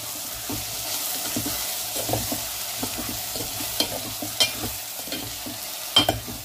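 A spoon stirs spiced food seasoned with salt, turmeric and chili powder in a frying pan, giving a steady low sizzle broken by close scraping strokes and a few sharper knocks.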